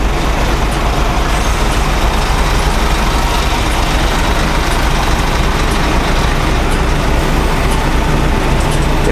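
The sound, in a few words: truck passing on the road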